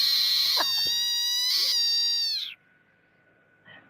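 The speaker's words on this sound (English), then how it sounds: "Enjoy the screaming frog for those of you that haven't seen it." A frog lets out a loud, shrill, wailing scream lasting about two and a half seconds before cutting off abruptly, followed by near silence and a faint short sound.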